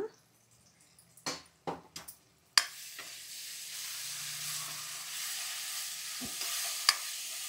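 Ginger, garlic and whole-spice paste hits a hot pan with a sharp crackle, then settles into a steady, moderately loud sizzle of frying with a few faint stirring clinks.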